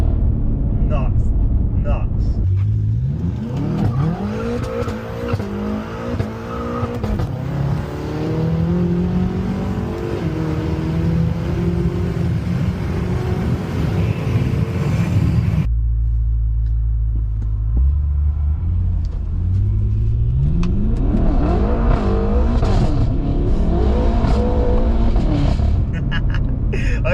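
An 820 bhp BMW G80 M3 and a 750 bhp F10 M5 rev repeatedly on the street, engine notes climbing and dropping in loud close bursts separated by a brief cut, with people talking over the noise.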